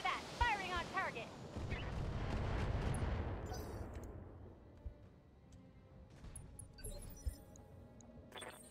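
Mech weapons fire in the BattleTech video game: heavy booming blasts and rumbling explosions swell and fade. Clipped radio-style game voices speak over the start, and scattered impacts and clicks follow.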